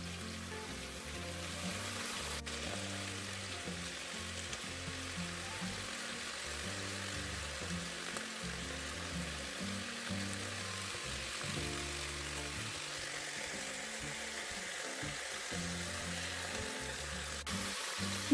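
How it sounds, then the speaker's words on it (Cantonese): Pork ribs pan-frying in oil for five-spice ribs, a steady soft sizzle and crackle running throughout at moderate volume, with no talking. "煎到咧微黃反轉。"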